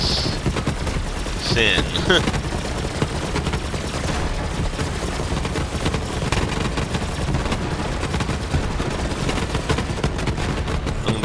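Dense, continuous gunfire from a Borderlands 3 raid against the boss Hemovorous, rapid shots and bursts layered under busy game effects, with a player talking over it.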